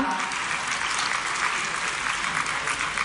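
Audience at an award ceremony in Bhopal honouring UPSC selectees claps steadily, a dense, even burst of applause filling the room with no speech over it.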